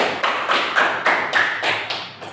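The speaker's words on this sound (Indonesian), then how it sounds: "Berikan dulu aplaus sama kelompok Atifa." A school class claps for a student group at a junior high school, close, loud, rhythmic claps in near unison at a steady, quick pace.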